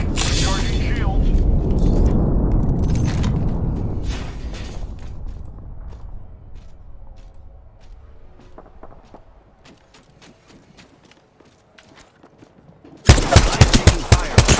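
Gunfire in Apex Legends, sharp bursts of shots and mechanical clacks at varying distances, with a low rumble fading out, then a sudden loud volley of rapid shots at the end, with a voice talking over it.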